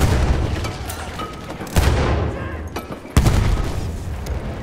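Two heavy, booming grenade blasts in the World War I shooter Battlefield 1, each a loud sudden burst over a constant roar of battle noise and distant gunfire.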